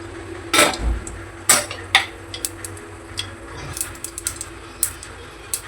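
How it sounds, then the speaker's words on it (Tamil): Mustard seeds crackle and pop in hot oil for sambar, with irregular sharp spits and sizzling bursts close by in a home kitchen. "கொஞ்சமாக கடுகு சேர்த்துக்கோங்க."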